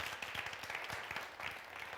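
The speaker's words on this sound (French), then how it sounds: "Applaudissements s'il vous plaît" Audience applause for a parody performer on a television entertainment show, dense, steady clapping from a studio crowd, fairly faint, with no talk on top.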